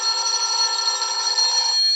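An old telephone bell rings in a radio drama, giving one sustained, bright metallic ring that lasts nearly two seconds and stops sharply, heard clearly with no talking.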